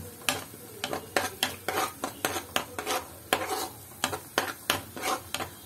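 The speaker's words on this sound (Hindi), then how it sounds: "एक चम्मच केचप, इनको मैं अच्छी तरह से मिक्स कर देती हूँ।" A spoon stirs ketchup into a macaroni sauce in a pan, scraping in steady, rhythmic strokes close up over a faint sizzle, with no talking.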